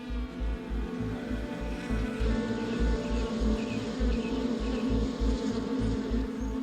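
Honeybee worker bees buzz steadily near their hive, a dense, continuous droning hum from many insects close by, with no voices.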